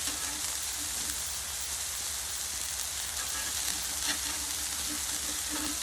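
Seasoned smashburger patties frying on a flat griddle, producing a dense, even sizzle like steady rain that holds at a constant level throughout.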